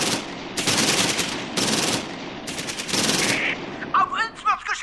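Rapid bursts of automatic gunfire rattle in a WWII combat video game, loud and close in several long strings with brief pauses, followed by short voice fragments near the end.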